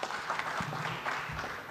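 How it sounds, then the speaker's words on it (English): Applause from a forum audience of mayors, colleagues and guests at a session of the 2025 International Mayors Forum, a steady broadband patter of many hands sustained over a couple of seconds at moderate distance. "Please give him a round of applause."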